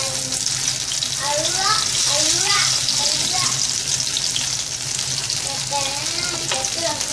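Colocasia (arvi) pieces fry to golden brown in oil in a pan over low flame, giving a loud, close, continuous crackling sizzle with small popping bursts and no talk.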